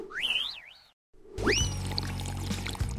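Cold water dumped onto someone as a prank, a sudden close splash and rush of pouring water following a silent gap, preceded by a whistling, swooping electronic effect.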